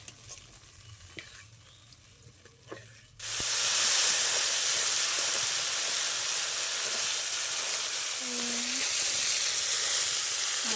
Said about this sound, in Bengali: এবার ভালো করে একসাথে মশলাটা ভালো করে কষিয়ে নেবো আমি